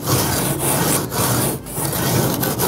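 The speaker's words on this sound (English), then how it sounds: "you can use a brick to sand it a little bit" One brick is rubbed against another to sand it, a continuous gritty scraping in back-and-forth strokes with brief dips between passes, close and fairly loud, no talking.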